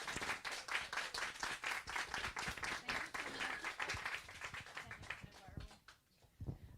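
Audience applause following a book talk, steady clapping that fades out near the end, with voices mixed in.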